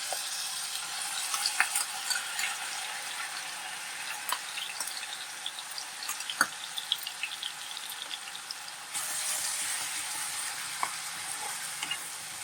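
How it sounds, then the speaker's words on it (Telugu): Chopped onion sizzles and crackles in hot sunflower oil in a kadai, a steady dense frying hiss with scattered pops and stirring scrapes throughout, close and continuous. "ఆయిల్ వీటెక్కింది ఉల్లిపాయ వేస్తాను వేస్తున్నాను"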